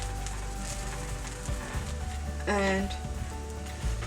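Oil hisses and sizzles steadily under a jowar masala roti frying on a hot tawa, with a soft crackle throughout, while someone talks over it and a short voiced sound rises midway.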